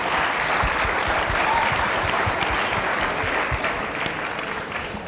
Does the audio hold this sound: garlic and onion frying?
no